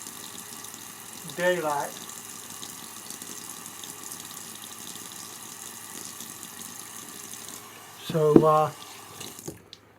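Water running from a bathroom sink tap while rinsing a face after shaving: a steady hiss of flowing water throughout, with two brief splashy bursts and someone talking over it.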